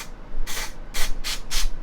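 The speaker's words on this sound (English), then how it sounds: "The trick to this is that we're going to spray it in our hand." A can of hair color spray sprays in three or four short hissing bursts, close and loud, over a steady background hiss.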